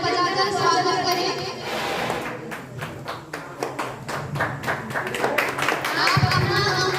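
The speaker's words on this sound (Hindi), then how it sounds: "जोरदार तालियां बजाकर स्वागत करें" At a 15 August celebration in a government school, an audience claps to welcome a guest in a string of sharp, scattered hand claps. The claps build into a burst of applause, with voices and children audible around it.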